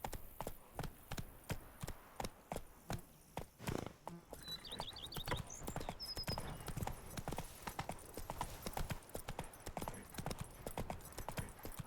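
Hooves of the horse Roach clip-clop at a steady walking pace in the video game The Witcher 3: Blood and Wine, crisp and evenly spaced throughout, with a brief faint whinny partway through and no talk.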